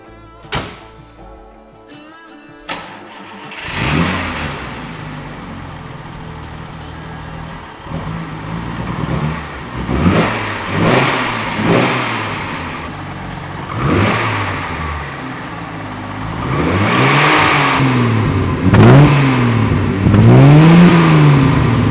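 Rebuilt engine of a Maserati Sebring Series II cranking, catching and starting after a door thunk, then revved in repeated rising and falling bursts, growing louder and more insistent toward the end, close by with no talking.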